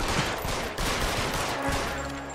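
Gunshots in the video game L.A. Noire, a loud sustained stretch of rapid firing with repeated sharp reports blending into a dense, continuous barrage, no talk.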